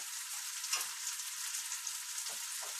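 Shrimp stir-fried with rice in a hot pan for Peruvian arroz chaufa gives a steady, close sizzling hiss with a few soft stirring knocks, and no voices.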